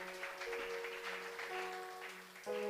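Congregation applauding during a Spanish-language church service, a soft steady patter of many hands with sustained organ or keyboard tones held underneath, at moderate level throughout.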